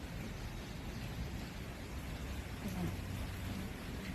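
Steady rain falls in Rourkela, a faint, even hiss of drops that runs unbroken throughout.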